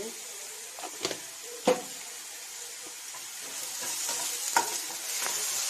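Spices being stirred into jackfruit curry frying in a pan, with a steady low sizzle and a few scraping clinks of the spoon against the pan.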